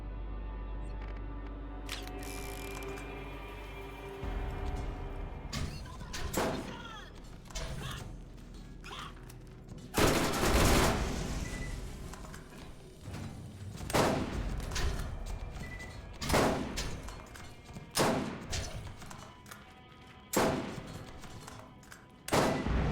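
Sniper rifle shots fired at turrets in Borderlands, a series of loud, sharp cracks spaced a few seconds apart, the first around ten seconds in, each with a ringing tail over steady game ambience.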